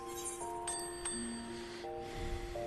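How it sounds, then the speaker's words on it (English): A crystal bell rings in Final Fantasy XIV, bright sustained chime tones layered with in-game music, steady and moderately loud with no talking. "Crystal Bell."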